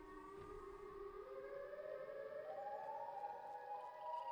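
A monster's siren in a Garry's Mod video game drones continuously as a rising wail, slowly climbing in pitch, fairly faint and alone with no voices.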